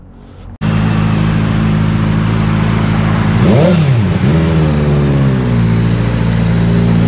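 Kawasaki ZX4RR inline-four motorcycle engine idling loudly up close, then revving sharply twice before settling back to a steady high idle.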